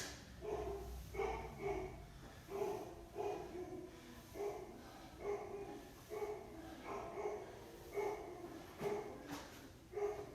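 Dogs barking repeatedly at home in a steady rhythm, about a dozen sharp barks and yips spread evenly, fairly faint and slightly distant.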